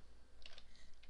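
Light typing on a computer keyboard, a short run of soft, quick, close keystrokes in an otherwise quiet room.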